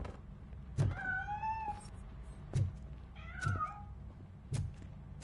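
Cat meowing in the video game Robocop Rogue City: three or four separate meows, each rising then falling, spaced a second or so apart over a low background hum, with soft thunks between them.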